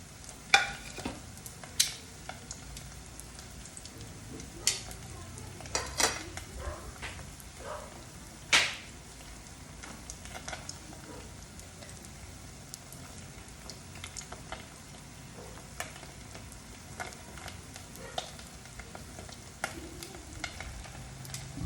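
Lumpia fry in oil with a soft, steady crackle of scattered pops and occasional sharper taps, quiet and continuous throughout.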